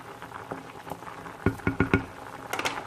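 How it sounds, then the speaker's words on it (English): A pot of black-eyed peas at a rolling boil bubbles steadily, with a quick run of four close, sharp knocks from a spoon against the pot midway and softer stirring clatter near the end. "Okay, I got it to a rolling boil"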